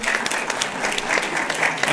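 Audience applause at a student law convention, a dense, steady patter of clapping from a crowd filling the whole moment.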